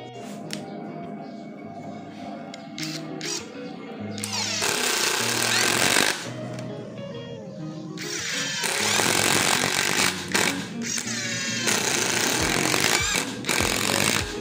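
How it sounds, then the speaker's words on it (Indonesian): A power screwdriver with a PH2 bit drives 2-inch screws into mahogany without pre-drilling: a loud, close, rattling whine that starts abruptly partway in and continues in long bursts, preceded by a softer tonal background. "Untuk bit obeng PH2 saya menggunakan sekrup dengan panjang 2 inci. Media penyekrupan adalah kayu mahoni tanpa pre-drilling."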